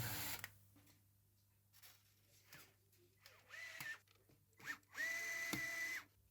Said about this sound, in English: I also countersink all the pickguard holes so the screws sit more flush with the pickguard.